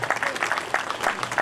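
A brief burst of audience clapping at a hospital gathering, with scattered individual claps audible within the quick ovation.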